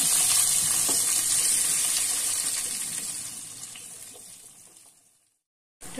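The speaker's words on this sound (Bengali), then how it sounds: "এবার একটু হালকা করে ফ্রাই করে নেব।" Elephant foot yam lightly frying in hot oil, a steady bright sizzle that slowly fades to silence, then a brief burst of noise right at the end, with no voices.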